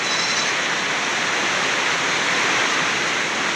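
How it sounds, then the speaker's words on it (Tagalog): Steady, dense hiss of heavy rain pouring down, loud and unbroken throughout with no voices. "Umulan ng malakas na naman."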